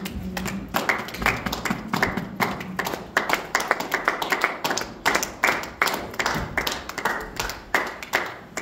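A church congregation claps rhythmically in praise of Jesus, a steady, loud beat of many hands with sharp regular accents throughout, little voice heard over it.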